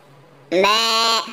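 A young calf gives one loud, close bleating call lasting under a second, breaking out of near silence with a nasal, wavering tone.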